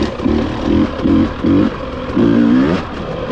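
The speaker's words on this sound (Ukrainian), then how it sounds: "бачите, трішки газанув, він вже поїхав" Husqvarna 300 motorcycle engine revved in a series of short throttle blips, about five quick bursts followed by a longer rising rev, loud and close over a steady idle.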